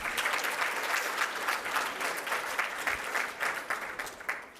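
An audience at an engineering innovation prize final breaks into sustained applause, a dense rippling patter of many hands at moderate distance that holds steady and tapers slightly at the end, with no voices over it.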